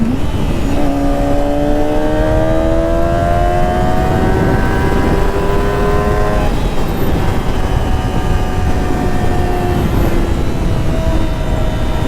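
A motorcycle engine revs high in a lower gear, a loud close whine climbing steadily in pitch for several seconds before easing off and holding, with no talking.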